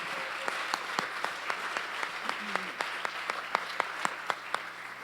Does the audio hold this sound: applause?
yes